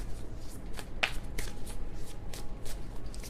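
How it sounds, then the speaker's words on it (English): Tarot cards are shuffled by hand in a loose, uneven rhythm, a series of crisp riffling flutters and soft slaps close to the microphone, without speech. "That was kind of a sloppy shuffle"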